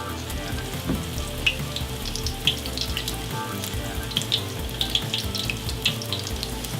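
Egg rolls fry in oil in a pan with a steady sizzle, sprinkled with sharp pops and crackles at irregular moments, close and moderately quiet, with no voices.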